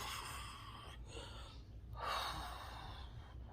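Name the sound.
heavy breathing, catching breath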